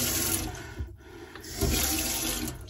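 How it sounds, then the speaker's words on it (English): Water runs steadily from a newly fitted motorhome tap into the sink while parked on a sloping drive, a continuous close splashing flow with slight surges and no talk. "That water's slow to drain."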